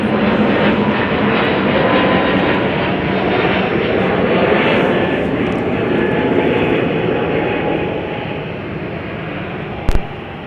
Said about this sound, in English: I think this might be United. Could this be an A321neo?